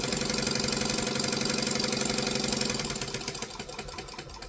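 A sewing machine runs at full speed while stitching a kangaroo strap, a steady fast mechanical hum and whir that holds for about three seconds before easing off near the end.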